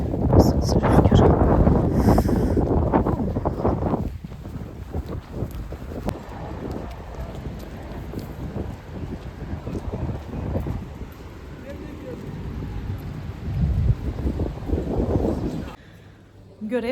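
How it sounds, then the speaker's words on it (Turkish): Strong wind gusts buffet the microphone with a loud rumbling roar, easing slightly midway and surging again near the end, with voices faintly mixed in. "Nasıl rüzgar."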